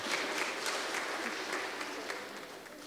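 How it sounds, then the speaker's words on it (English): A church congregation claps at an Education Sunday service, a steady, dense round of applause from a full room that holds evenly and tapers slightly toward the end. "Let's clap for her as she comes up."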